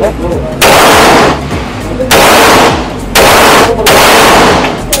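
Loud bursts of automatic gunfire at a shooting range, four sustained rapid-fire strings of roughly a second each separated by short gaps, very close and harsh with an echoing range ambience.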